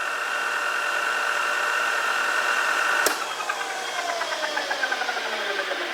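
A lathe spindle fitted with an encoder mount spins at 2800 RPM, giving a steady high whine with a faint rattling undertone, broken by one sharp click partway through.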